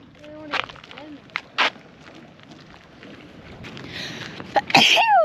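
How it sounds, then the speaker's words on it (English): A short sharp sneeze brought on by sunlight bursts out amid quiet outdoor ambience at Ningaloo, with a few softer vocal sounds and rustles around it. "Sun sneeze."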